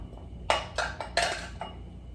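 A knife chops diced jalapeños for salsa on a cutting board: five crisp, close knocks in an uneven rhythm, with short quiet gaps between them.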